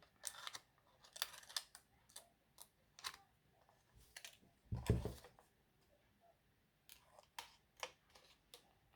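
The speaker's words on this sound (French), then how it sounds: "Je vais venir tout simplement couper en biais." Vellum paper being cut diagonally at the corners while crafting, heard as faint, sparse crisp clicks and snips scattered through a quiet room, with one fuller cut near the middle.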